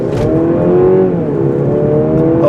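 A 2022 Mercedes-Benz C300 turbo engine pulls hard and steadily from standstill, its pitch climbing in a continuous sweep as the car accelerates, loud and close with a whirring tone.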